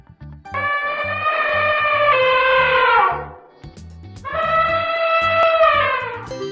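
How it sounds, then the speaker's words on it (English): Two long, loud, harmonic elephant trumpet calls, each sliding downward in pitch, with a pause between them and a steady rhythmic music beat running underneath. "Correct! It's an elephant!"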